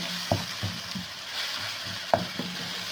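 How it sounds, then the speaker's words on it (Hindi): Beef mince fries in a pan with tomato, giving a steady soft sizzle broken by a few sharp scrapes and knocks as it is stirred. "इसमें डाल के थोड़ा सा इसको भूनेंगे।"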